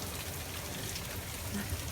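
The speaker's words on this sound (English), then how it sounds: "We have rain. No need to put out the sprinkler." Steady rain falls outdoors at an alpaca bed and breakfast, a continuous dense patter that stays even and fairly close throughout, with no voices.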